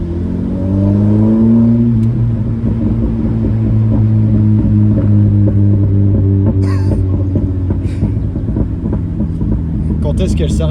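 A Honda Prelude first-generation engine revs up nearby in a strong, rising drone that holds and then steadies into a throbbing idle, with people talking over it and a few brief clicks near the end.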